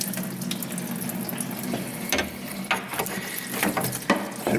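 Coolant pouring out of a Subaru EJ25D 2.5 DOHC engine during a timing belt and water pump job, a steady splashing trickle with a few clicks and knocks, close, with no talk.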